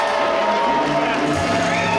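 Wrestling crowd at a Limitless Wrestling show cheering and whooping steadily throughout, a dense roar of many voices filling the hall at close, loud level.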